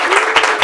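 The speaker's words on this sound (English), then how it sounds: "one more huge thank you and round of applause for Felice" Audience applause for Felice at a live event, a dense burst of many hands clapping, loud and close, heard only briefly.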